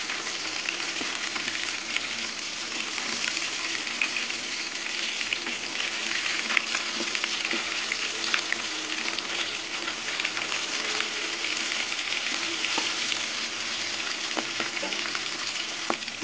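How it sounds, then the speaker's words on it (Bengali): Katla fish pieces frying in mustard oil in a wok, turned over partway, a steady close crackling sizzle throughout with occasional sharper pops and light utensil taps, with no talk. "মাছগুলো উল্টে দেবো।"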